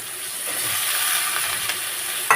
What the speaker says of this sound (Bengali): ভেন্ডিগুলো দিয়ে এইভাবে নাড়াচাড়া করে নেব, একটু ভেজে নেব